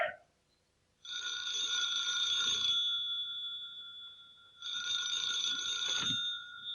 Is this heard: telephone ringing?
yes